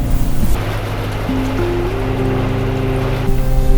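Sailboat motoring under engine at sea at sunrise, a steady droning engine hum with shifting tones, wind rushing and water washing against the hull, loud and continuous with no voices.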